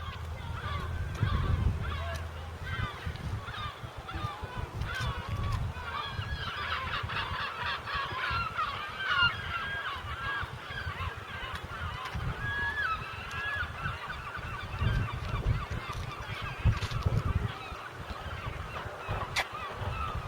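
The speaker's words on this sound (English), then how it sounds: "the gulls are out in force" Gulls calling at the seaside at Gorleston, harsh honking cries repeating and overlapping over steady wind and a low rumble, some close and others farther off.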